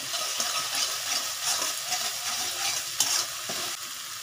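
A spoon stirs white potato curry (aloo dum) made with sesame and poppy seed in a pan, with scraping strokes and soft sizzling in an irregular rhythm, close and clear.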